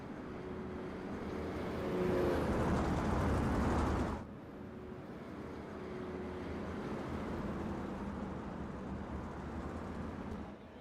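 Race cars on track in the iRacing video game at a Little 500 event, a continuous loud engine drone that drops abruptly partway through and then carries on steadily, with no talking.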